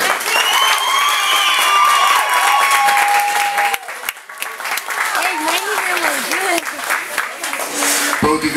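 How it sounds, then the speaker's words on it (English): A fight-night crowd at an amateur boxing show applauds and cheers the two boxers after a hard-fought bout, sustained loud clapping and shouts filling the hall from start to end, with whistles and voices mixed in. "Have a one last hand of applause for these two."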